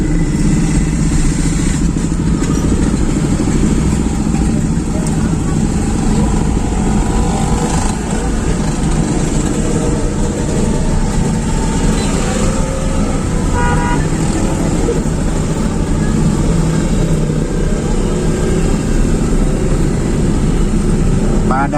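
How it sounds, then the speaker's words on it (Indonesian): Dense night traffic of cars and motorcycles at Center Point of Indonesia, a steady loud roadway roar with occasional horn toots and voices mixed in. "Padat sekali kendaraan"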